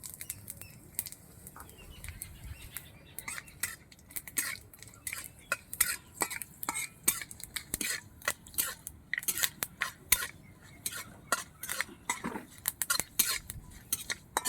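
Five-spice panch phoron frying in a pan for sweet mango pickle, with a utensil stirring and clinking against the metal in frequent light taps and scrapes, close and fairly quiet.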